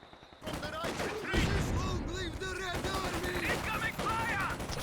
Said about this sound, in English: I think that's a heavy barrage, is it?